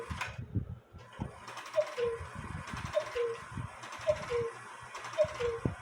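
An 1880 Albert Fleig hunter's cuckoo clock strikes mechanically under repair, giving several evenly spaced two-note cuckoo calls over whirring gear noise, fairly quiet and close.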